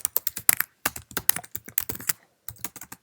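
Close, rapid typing on a Mac computer keyboard, dense bursts of key clicks with short pauses as a greeting is typed into an email.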